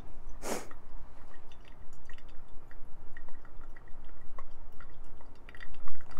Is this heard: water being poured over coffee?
yes